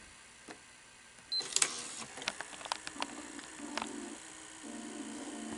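A Sony SL-HF2100 Betamax VCR mechanism starts running after play is pressed, giving a close, quiet series of clicks, ticks and whirring mechanical movements, with a low steady motor hum that steps on and off.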